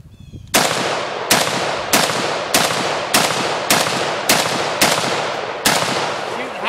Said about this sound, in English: You can shoot them fast if you want.